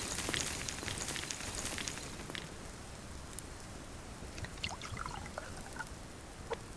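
Water pours with a faint, steady trickle and splash in the survival farming game Subsistence, a soft continuous wash with scattered small drips and no talk.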